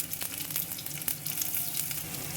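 Onion and garlic cloves fry in hot oil with a dense, continuous sizzle and crackle, moderately loud and close, with small pops scattered throughout and no voices.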